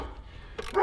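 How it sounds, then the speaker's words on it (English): Weimaraner dogs in a workshop barking: quiet at first, then two short, loud barks close by at the very end. "shop dogs. Shop dogs. That's one bad part about having Weimaraners"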